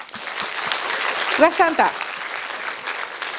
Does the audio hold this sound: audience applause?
yes